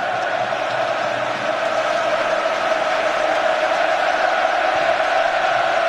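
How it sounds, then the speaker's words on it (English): A football stadium crowd cheers and chants for England during an England vs Croatia Euro 2008 qualifier, a loud, continuous roar of massed voices with no break. "the crowd are doing their best to help dig England out of a great big hole"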